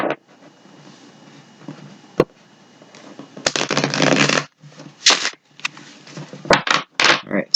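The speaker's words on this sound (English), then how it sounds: "for some reason I'm having a hard time shuffling the cards." A deck of tarot cards is shuffled by hand in several separate bursts of crisp, riffling papery rustle, close and fairly loud, separated by quiet pauses.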